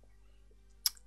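A single quick computer mouse click, clicking a Next button during a software install, sounds once near the end of an otherwise quiet moment with a faint background hum.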